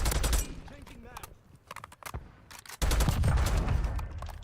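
Rapid bursts of automatic gunfire in Call of Duty Warzone, loud and close, with a pause in the middle before another dense volley, and voices talking under the shooting.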